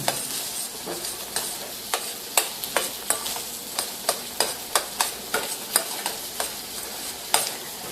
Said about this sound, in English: I'm just going to mix that right in there.